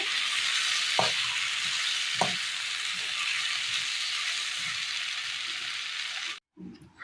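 A tomato curry base sizzles steadily in a pan for a Kerala curry, with a couple of soft stirring scrapes before the sound cuts out near the end.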